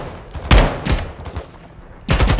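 Automatic gunfire rings out in Call of Duty: Modern Warfare 2 (2022), with three short bursts of sharp, loud rapid shots separated by quieter gaps.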